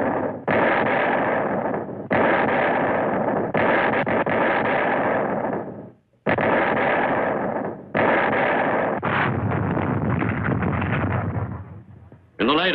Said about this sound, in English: By D-Day afternoon, American artillery was ashore and in use.